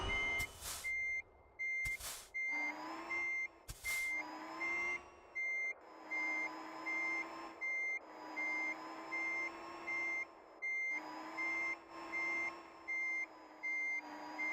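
Steady reversing alarm from an electric truck in American Truck Simulator, a long run of regular beeps over a soft motor hum, interrupted early by three sharp bursts of hiss, likely air brakes.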